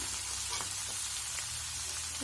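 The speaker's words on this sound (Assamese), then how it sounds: "পিঁয়াজ, নহৰু, আদাখিনি দি দিছোঁ। সেইটো ভালদৰে লৰাম।" Chopped onion, garlic and ginger sizzle steadily in a hot pan, a close, even frying hiss with soft scraping as the mixture is stirred, no voices over it.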